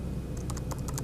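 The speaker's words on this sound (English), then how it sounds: "I come back under tags and I start typing Tamba" Rapid keystrokes on a computer keyboard, about half a dozen light clicks in quick succession starting partway through, close and clear with no speech.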